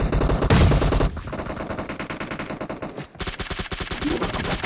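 Rapid automatic gunfire in the mobile battle-royale game PUBG Mobile, dense, loud bursts running almost continuously with a brief pause near the middle before the firing resumes.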